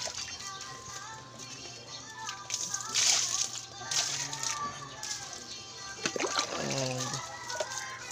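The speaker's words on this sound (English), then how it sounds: "And in every direction, I need to throw a water to remove poops." Water thrown repeatedly across a chicken cage to wash out droppings, giving bursts of splashing and sloshing, with chickens clucking and a rooster heard among the noise and a person talking nearby.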